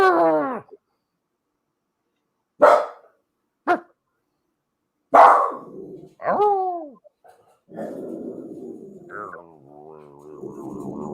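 A pet dog, Nicole's, barks in several short, sharp bursts close to the microphone, then gives whining, yowling vocal sounds, alone with no talk over it.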